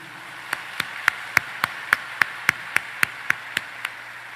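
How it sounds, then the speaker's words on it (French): Hand claps in a slow, perfectly even rhythm, about a dozen crisp strikes spaced a quarter-second apart, from people at a Haitian political gathering clapping in solidarity. The claps are close, with no voices over them. "On encourage monde de bien yo avec un gros applaudissement solidarité"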